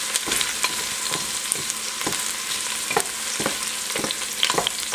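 Vegetables for pancit canton stir-frying over medium heat, a steady close sizzle with repeated scraping stirs of the spatula throughout.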